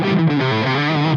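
An electric guitar played through a Yuer Tube Dream distortion pedal rings out one thick, heavily distorted chord that sustains evenly and loudly for just over a second.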